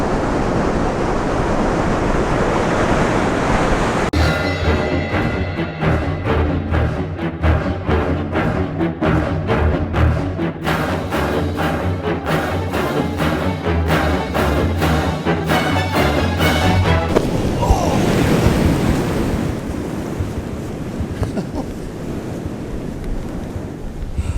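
Ocean surf breaks along a beach under steady wind, with the roar of waves and gusts buffeting the microphone through the whole stretch, and a dense, stuttering noise mixed in through the middle, no voices.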